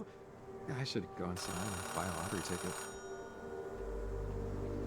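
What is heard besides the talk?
payphone ringing in video game Oxenfree II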